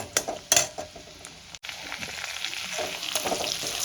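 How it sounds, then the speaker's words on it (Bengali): Chopped garlic, about fifteen cloves, fries in a pan for dhaba-style pav bhaji masala. A close, hissing sizzle runs throughout, broken early on by a few sharp scrapes and clinks of a utensil. "রসুনটা আমার লাল করে ভাজা হয়ে গেছে"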